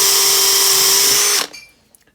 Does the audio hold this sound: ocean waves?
no